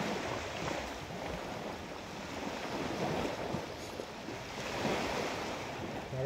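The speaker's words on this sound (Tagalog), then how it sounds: "Padungog na po tag mga tingog sa balod. Nahampas dito sa baybayon." Steady roar of ocean surf washing onto a beach shore, broad and continuous with gentle swells in intensity, no voices.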